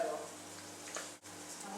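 Algerian almond cigar pastries frying in oil that is hot but not boiling, giving a steady, soft, close sizzling hiss that continues without a break, with no talking.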